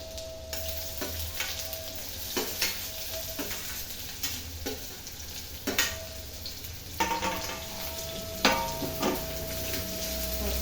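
A large onion frying in a pan with ginger-garlic paste: a steady, soft sizzle runs throughout, punctuated by regular scraping and tapping as it is stirred, with no voices.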